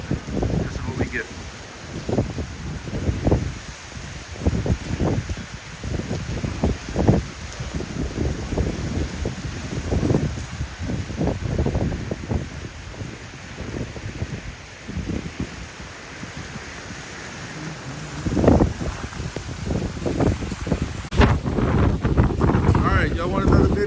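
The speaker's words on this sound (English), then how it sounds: "currently getting 40 to 50 mile an hour winds steady, sustained" Strong hurricane wind of 40 to 50 mph sustained in LaPlace, Louisiana, during Hurricane Francine buffets the microphone in loud, irregular roars for the whole stretch, with a voice talking underneath at times.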